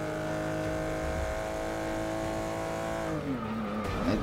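Race car engine in Forza 6 holding a steady high-pitched drone, then dropping in pitch near the end with tire squeal, close and loud with no talk.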